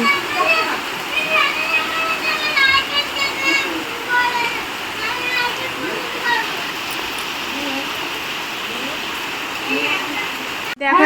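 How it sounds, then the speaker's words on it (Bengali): Heavy rain pours steadily outside a home after a night of downpour, a dense continuous hiss with splashing water, while voices talk over it. "সারা রাত বৃষ্টি হয়েছে আবার সকাল থেকে শুরু হয়েছে কি বৃষ্টি"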